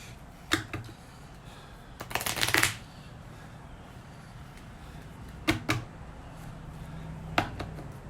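Cards from an Arkham Horror card game deck are shuffled on a table in several short riffling bursts, the longest in the middle, separated by quiet pauses and soft taps.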